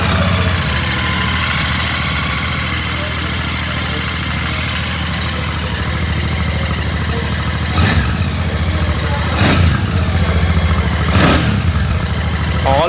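A 2025 Royal Enfield Classic 650 in neutral idles with a steady, loud exhaust thrum, then three sharp throttle blips rise and fall a second or two apart.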